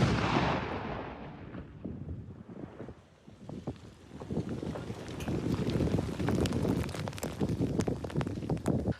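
A deep explosion of detonated old mortar mines booms and rolls out, followed by scattered cracks and thuds as debris falls, with wind buffeting the microphone throughout.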